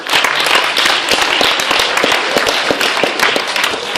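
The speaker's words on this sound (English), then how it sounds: "let's give a wonderful round of applause for Mr. Michael Owen" Audience applause for a speaker at an art event, a dense, loud, steady wash of many hands clapping throughout, with sharp individual claps standing out and no voices heard.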